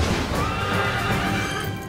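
Wild horses neigh loudly in a TV commercial, a full, close whinny layered over a dense rushing background that fills the whole stretch.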